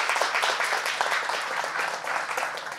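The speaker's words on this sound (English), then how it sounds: "Give a big clap to it." Dense applause from a seminar audience, steady crowd clapping throughout with no voices on top, fairly near and sustained.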